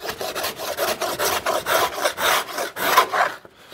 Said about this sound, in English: our trusty spokeshave. Which makes quick work of smoothing this surface out.